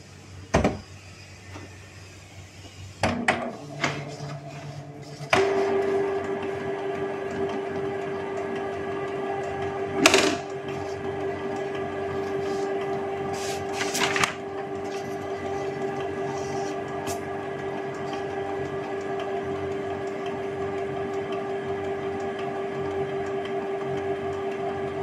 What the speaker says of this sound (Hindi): दोबारा से ऑन किया, ये देखिए प्रिंटर ऑन हो गया है